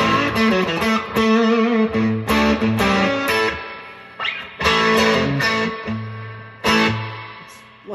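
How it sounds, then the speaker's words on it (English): Electric guitar with heavy distortion feeding an amp's spring reverb, chords struck and left to ring, each ending in a washy reverb tail between strikes. "I've got the amp reverb on, I hit a distortion."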